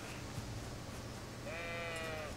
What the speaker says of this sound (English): Sheep.